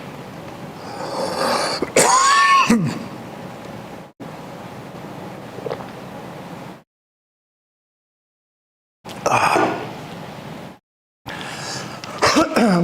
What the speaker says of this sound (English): What about a coughing fit